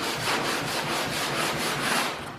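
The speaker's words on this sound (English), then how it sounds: "right now I'm just going to sand where I need to for these 1/4-inch strips" Sandpaper rubbing back and forth over quarter-inch cedar strips along the center line of a wooden kayak deck, a close, continuous rasping hiss in steady strokes.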